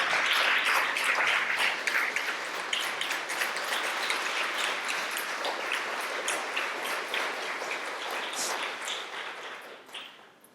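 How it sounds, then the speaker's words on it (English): Applause for a county board at a schools brunch, a dense steady patter of many hands that holds for several seconds and then thins and fades toward the end. "Give the county board a round of applause."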